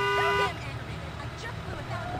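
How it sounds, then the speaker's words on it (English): A car horn in the Bully video game blares loudly for about half a second, then cuts off, leaving a low engine hum and faint background voices. "I'm sorry, are you honking at me?"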